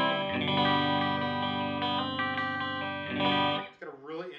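An electric guitar on its neck pickup, run through effects, rings out a sustained, thick strummed chord that holds for several seconds, then gives way to a shorter wavering passage; loud and close, with no voices.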